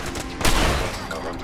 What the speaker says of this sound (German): Wir hören zwar noch Schüsse, aber das ist definitiv nicht hier aus der Nähe.